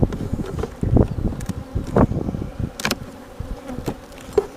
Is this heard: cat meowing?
no